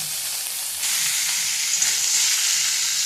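Ginger paste and chili paste sputter in a little salted oil, a close, continuous frying hiss that grows louder and denser partway through, with no talking.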